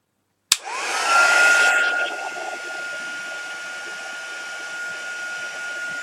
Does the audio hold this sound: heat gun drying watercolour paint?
yes